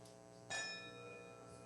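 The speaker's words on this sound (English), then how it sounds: "We'll ring the gong 3 times." A gong is struck once, ringing with a bright metallic shimmer that sustains and slowly fades over a low hum.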